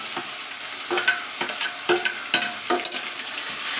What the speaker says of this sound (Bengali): এবার দিচ্ছি পেঁয়াজ বাটা। পেঁয়াজ বাটা দিয়ে এবার দেব রসুন বাটা।